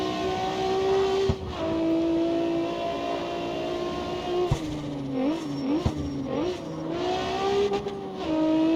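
Engine of a GTR in the CarX Street racing game, a steady loud drone with rising and falling revs and gear changes throughout, alone with no talk.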